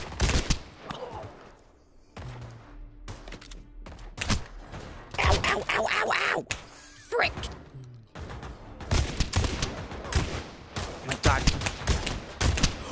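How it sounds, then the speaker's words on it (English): Rapid gunfire bursts and fusillades in the VR shooter Pavlov VR, loud and near, repeating in clusters across the whole stretch, with people shouting and talking between and over the shots. "Stop shooting at me!"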